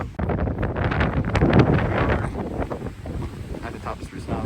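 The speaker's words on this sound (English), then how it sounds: "You can hear the whipping of the wind up here." Strong wind whips and buffets across a mountain summit at 4,800 feet, the highest point of West Virginia, roaring loudly and steadily with heavy gusts rumbling against the microphone.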